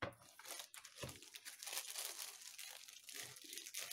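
Plastic packaging of embroidery kits rustles and crinkles continuously as it is unwrapped, a close, dense crackle with a few sharper crunches and quiet talk faintly underneath.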